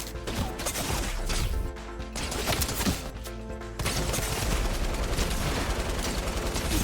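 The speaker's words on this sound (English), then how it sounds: "my next is a continuous sequence of people shooting at me" Fortnite gunfire rattles in rapid, continuous bursts of sharp shots layered over game music, with a brief dip partway through before the shooting resumes loudly.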